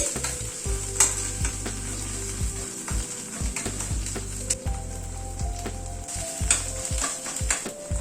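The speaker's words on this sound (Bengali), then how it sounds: "সবগুলো দিয়ে মশলাটাকে আবার একটু কষিয়ে নিচ্ছি" Ginger and green chili paste spice mix frying in a pan, a constant close sizzle broken by repeated rhythmic scraping strokes of a spatula stirring the masala.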